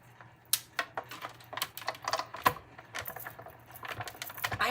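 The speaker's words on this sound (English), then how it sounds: "let's just bring our Stampin' Cut and Emboss machine up, and we'll just cut one more circle out" A Stampin' Cut and Emboss machine cuts a paper circle, producing a loose series of sharp, irregular clicks and ticks of varying loudness, heard close with no speech.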